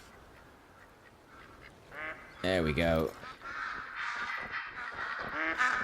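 Mallard ducks quack during a duck hunt at Te Awaroa, a short burst of loud, close calls midway with a voice speaking before and under them.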